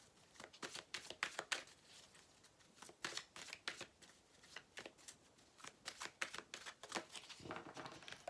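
Tarot cards being shuffled by hand in a quiet room, a series of soft, crisp riffles and flicks coming in irregular bursts, close and faint, with no talking.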